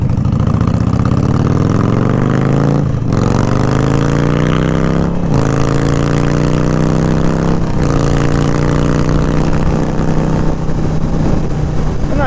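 A sport motorcycle's engine running loud and close, its pitch climbing steadily in three successive revs with brief breaks between them, a steady growling drone with no talking.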